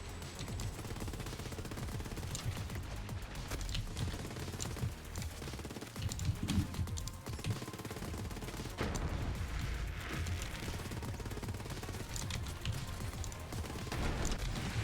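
Steady, continuous Dahl assault rifle fire from Borderlands, a dense rattle of shots with a low rumble underneath, running without a break and with no one talking.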